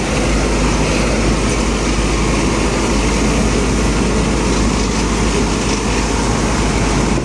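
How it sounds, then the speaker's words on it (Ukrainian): Tractor driving over a bumpy, drought-dried hayfield, a loud, continuous engine drone and rumbling rattle with no talk. "в тракторі не всидиш. Такі ями"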